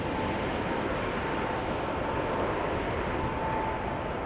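A Boeing 787 Dreamliner at Amsterdam Schiphol airport produces a continuous broad engine roar, steady and fairly loud, with a faint tonal whine.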